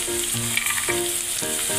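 Cashews sizzle steadily in hot oil in a pan for an Anda malai curry, a continuous close frying hiss with faint background music tones and no talk.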